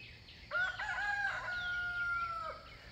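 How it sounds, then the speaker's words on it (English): A rooster crows once, a long loud cock-a-doodle-doo rising and holding before trailing off, fairly close against a quiet background. "Just listen to these birds as they sing."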